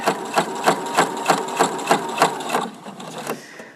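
A sewing machine stitches fabric strips in a steady run of rapid mechanical pulses, then slows and fades into a softer whir near the end.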